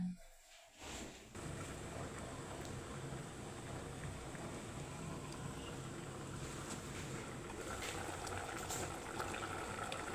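Milkfish broth simmering under a lid in a covered pot for tinawsihang bangus, a steady soft bubbling hiss that runs on without a break after a brief quieter start.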